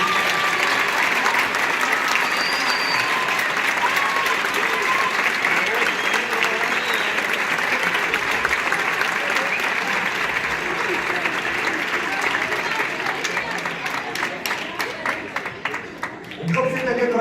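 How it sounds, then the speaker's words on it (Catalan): Sustained applause from an audience at a city gold medal award ceremony, steady and dense clapping filling the hall for most of the stretch before thinning out near the end. "I un gran aplaudiment per tots ells."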